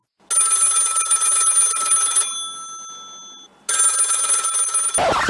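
A telephone bell rings loudly in two long bursts with a short pause between, a bright metallic trill close by, followed by a brief clunk as the handset is picked up.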